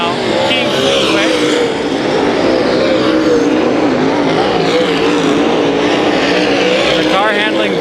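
Race cars roar around the 3/8 mile Kings Speedway dirt oval during a heat race, a loud, continuous wall of engine noise with cars sweeping past, while an announcer calls the action over the top.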